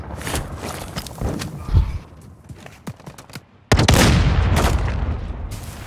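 Gunfire in Call of Duty: Modern Warfare II comes as scattered booming shots and thuds, then a sudden dense, loud barrage of rapid fire and explosions that fills the final two seconds.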